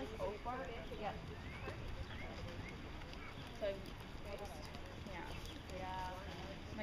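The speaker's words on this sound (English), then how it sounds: "Riders, trot your horses. Please trot." Hooves clip-clop steadily as horses trot at a distance, with people talking faintly underneath throughout.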